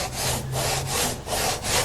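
A hand saw cutting through wood in steady back-and-forth strokes, about four rasping passes, close and fairly loud with no talking.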